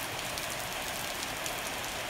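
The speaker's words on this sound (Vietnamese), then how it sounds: "Hôm nay mưa dã đời, mưa đã đời luôn." Heavy rain falling in the rainy season, a dense, loud, unbroken hiss of downpour with no other sounds.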